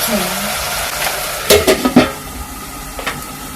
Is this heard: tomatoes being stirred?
yes